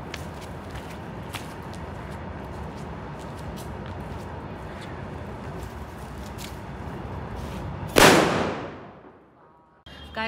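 A single sharp blast from a Diwali foil firecracker erupts after a stretch of steady hissing background noise, then its roar decays quickly into near silence.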